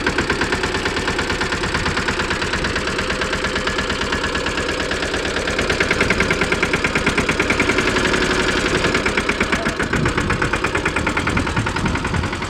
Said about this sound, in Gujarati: મિની ટ્રેક્ટર છે,